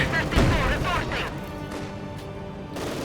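Company of Heroes 2 battle with gunfire and explosions, including a light machine gun firing at Grenadiers. Sharp bursts and booms crack out early, then fade into a busier background under steady commentary.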